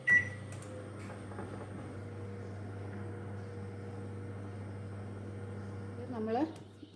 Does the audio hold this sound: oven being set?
yes